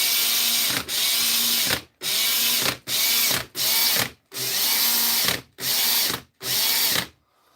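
A Makita power tool motor running roughly, revved in eight loud whirring bursts with a rattling, ratchety grind, each cut off abruptly by short silences, close up and with no voices.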